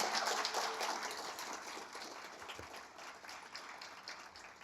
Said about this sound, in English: we can give one loud applause for all of the people we've already acknowledged so far